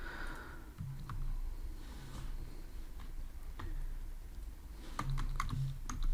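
Keys clatter on a computer keyboard in short, quiet bursts of clicks with pauses between them, close by in a calm room.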